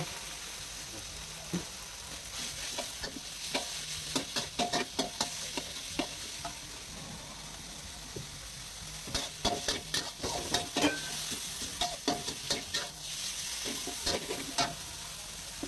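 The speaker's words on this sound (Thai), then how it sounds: "ผัดให้เข้ากัน แล้วก็ ใส่หมูไป" Pork being stir-fried in a pan with bell pepper and onion, a continuous sizzle with repeated scraping and tossing strokes of the spatula, clustered in bursts, close and moderately loud.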